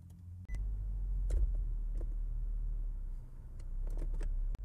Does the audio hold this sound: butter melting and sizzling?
no